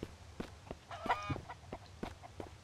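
A chicken in the survival game MIST Survival clucks in short, soft bursts with a brief squawk midway, heard close and alone at low volume.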